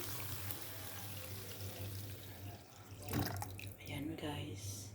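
Water is poured from a tap or vessel into a pot for corn soup with shrimp and spinach on a home stove, a soft splashing and trickling that swells midway over a low steady hum, fairly faint.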